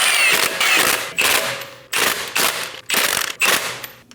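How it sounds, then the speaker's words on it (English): Lug nuts on a front wheel of a 2011-2026 Dodge Durango are run down with an impact wrench in about seven loud, close bursts, each a short rattling buzz separated by brief pauses. "Snug the lug nuts down."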